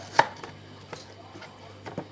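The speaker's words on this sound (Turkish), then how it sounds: "Bu aparatla da böyle kesip küçük küpler halinde doğrarsanız" A knife chops beetroot into small cubes on a cutting board in a few sharp, separate chops, close and fairly quiet, with short pauses between cuts.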